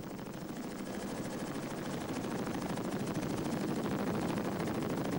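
A rescue helicopter hovering over the sea during the 1994 Estonia ferry disaster rescue, its loud, close rotor thudding as a constant rapid beat through a dense roar with no pause.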